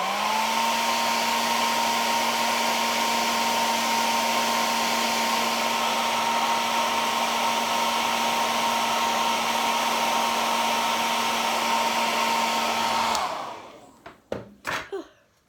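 Hair dryer blowing steadily on a drying craft project, a loud continuous whirring whine for about thirteen seconds, then switched off, followed by a few soft knocks and handling sounds.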